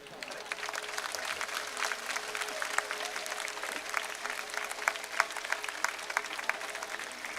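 A large crowd at a political rally in Banaskantha claps hard and continuously, a dense rattle of many hands that carries on steadily for several seconds at a slight distance.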